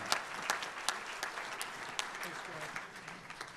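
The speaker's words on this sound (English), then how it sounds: "So give yourselves a huge round of applause for coming out." Crowd applause at a big band jazz concert sounds faint and somewhat distant, a thin crackle of many hands with a few sharper individual claps standing out.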